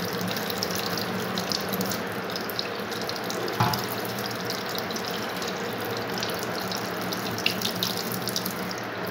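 Water pours and splashes steadily while a small Gopal deity idol is bathed, a continuous close gush like a running tap with one brief knock partway through.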